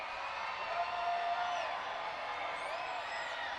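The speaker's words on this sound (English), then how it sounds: "The crowd responds." Crowd noise from fans at a minor-league PCL baseball stadium, Las Vegas at Oklahoma City, reacting with a steady, broad roar and scattered whoops, sustained evenly throughout at moderate distance.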